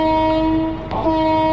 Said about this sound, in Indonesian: Oke teman-teman, kita dengarkan tuh suara klaksonnya seperti apa ya